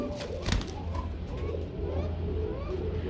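Soft pigeon cooing with a thin, high call, a brief sharp noise near the start, quiet and close.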